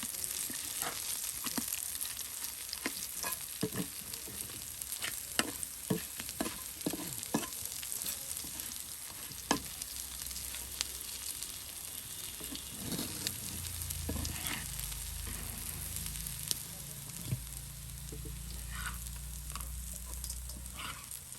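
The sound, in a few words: frying beguni (battered eggplant fritters) in oil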